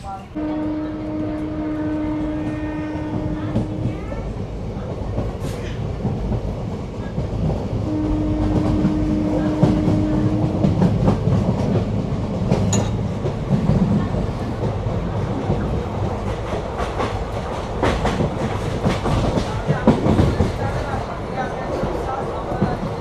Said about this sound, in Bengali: আমাদের ট্রেন এই মুহূর্তে এখন কর্ণ সুবর্ণ স্টেশন ছেড়ে বেরিয়ে যাচ্ছে